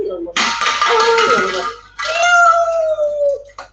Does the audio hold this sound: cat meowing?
yes